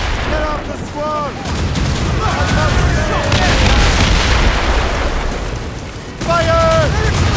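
Ship cannons in Assassin's Creed Rogue boom in a heavy, rolling barrage with a sustained rumble, while sailors shout over the noise.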